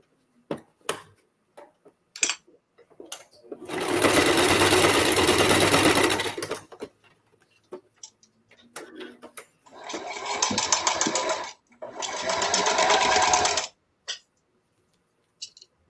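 Sewing machine stitching hair scrunchies, with three loud close runs of rapid stitching separated by quiet gaps with small handling clicks and taps.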